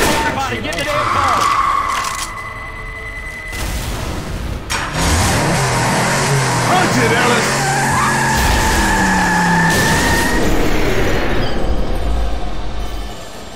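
A car in Left 4 Dead 2 skids with long tire squeals while its engine revs and drives off, loud and close, mixed with chaotic game noise and shouting voices.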